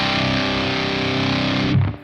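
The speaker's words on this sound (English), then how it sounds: "dial back some distortion." An electric guitar played through a distortion pedal sustains a thick, fuzzy, loud chord for about two seconds before cutting off, with no one talking.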